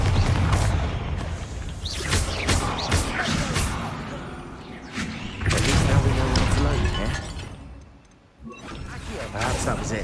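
Confringo fire spell explosions in the Hogwarts Legacy video game, a busy run of loud bursts, booms and whooshes layered with game music and voices, two heavy impacts rising near the start and middle.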